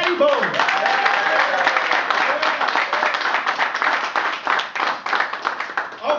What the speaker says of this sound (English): please, a big round of applause for the former two-time heavyweight champion of the world, Mr. Riddick, Big Daddy Bowe.